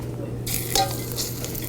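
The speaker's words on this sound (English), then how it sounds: "Now you can hear that pan sizzling, and that's what you really want." A pan sizzles loudly and steadily, the crackling hiss jumping up suddenly and staying bright, with a light clink of a utensil.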